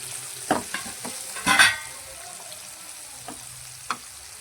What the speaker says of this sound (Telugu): ఇది చాలా మంచిగా బ్రౌన్గా ఫ్రై చేస్తాం.